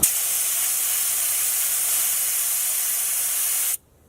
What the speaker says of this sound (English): As you can hear now, all the airs get released at once.